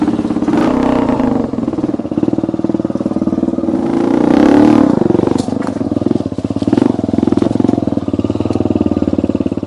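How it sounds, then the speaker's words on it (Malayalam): A homemade sports bike built from motorcycle parts runs with a steady, loud engine drone and rhythmic pulsing, rising briefly as it revs and then settling back to a constant close-up rumble. "ബൈക്കുകളുടെ പാർട്സുകൾ ഉപയോഗിച്ച് സ്വന്തമായി സ്പോർട്സ് ബൈക്ക് നിർമ്മിച്ചിരിക്കുകയാണ്"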